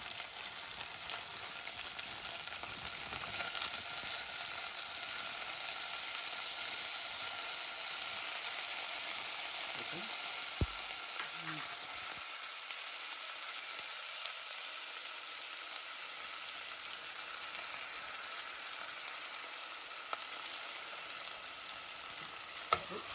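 Peas and carrots fry in a pan with a continuous bright sizzle, joined by scraping and clinking stir strokes that come and go, steady and close with no talking.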